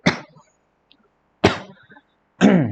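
A person coughs three separate times during a science lesson, each a sharp burst with quiet gaps between, close and loud, the last one rougher and more throaty.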